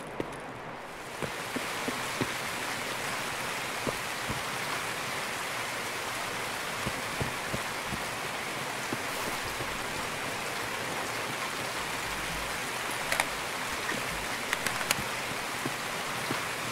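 Steady, even rain hisses throughout the Customs map of the shooter game Escape From Tarkov, a dense unbroken wash of drops with a few faint clicks and taps scattered under it.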